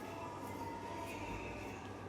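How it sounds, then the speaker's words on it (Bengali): A metro train pulls into an underground station with a low, steady rumble and a faint high whine, heard from the platform at moderate distance. "ট্রেন আসছে,"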